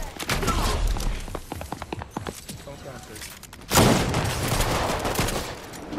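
Loud video game gunfire rattles in rapid automatic bursts, followed by a heavier, sustained barrage that swells abruptly midway and then tails off slightly, with voices speaking over the shooting.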